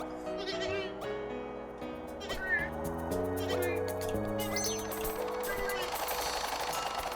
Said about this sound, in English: The sheep noises are great